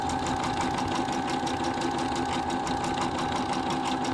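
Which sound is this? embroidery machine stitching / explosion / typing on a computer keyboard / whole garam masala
embroidery machine stitching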